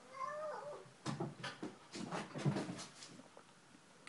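A pet cat meows several times indoors, rising and falling cries close to the mic, followed by soft household shuffling and a few thumps.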